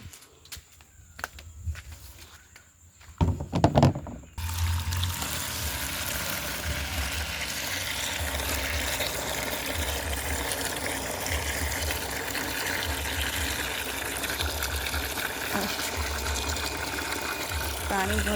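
Water runs and gushes over leafy greens being washed for a rustic Odia dish of crushed black gram, rice and greens, starting with a few seconds of clatter before a steady, close flow sets in.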